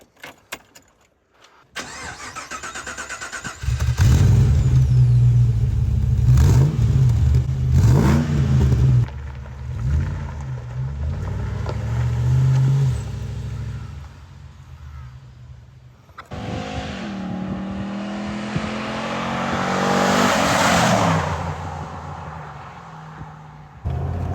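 A Twisted Automotive Land Rover Defender with a 6.2-litre V8 cranks and fires up, then idles and revs loudly up close before pulling away and accelerating, the engine note rising and falling through gear changes.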